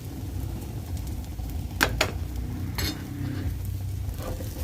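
Ground meat omelette with malunggay leaves frying in a pan, a steady low sizzle with a few sharp clinks of a utensil against the pan midway.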